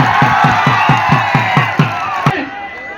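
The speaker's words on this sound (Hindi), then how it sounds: "एक और जोरदार तालियों से स्वागत किया जाए।" A crowd at a wrestling match claps in quick, even unison beats with cheers and whoops mixed in, close and loud, before the clapping breaks off near the end.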